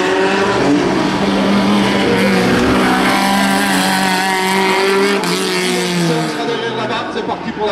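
Rallye 3 rally car at a historic hill climb, its loud engine revving hard and climbing through the gears nearby, with a steady high-pitched howl throughout.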